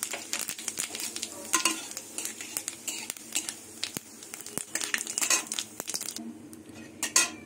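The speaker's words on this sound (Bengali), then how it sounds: "এবার 2টো শুকনো লঙ্কা আর গোটা জিরে ফোড়নে দিয়ে দেবো" Dry red chillies and whole cumin seeds crackle and sizzle in hot mustard oil in a kadai, with steady spitting and frequent scraping stirs of a spoon against the pan, close and continuous.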